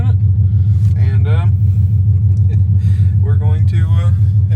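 A Chrysler 300C with a 5.7 Hemi V8 and long tube headers idles with a loud, steady low rumble throughout, while a person talks over it in short bursts.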